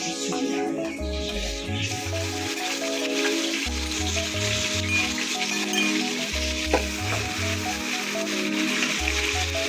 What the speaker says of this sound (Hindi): ये देखिए हमारा प्याज अब ब्राउन हो चुका है। अब इसमें हम अदरक लहसुन का पेस्ट डालेंगे।